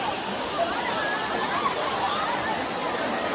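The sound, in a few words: waterfall with people bathing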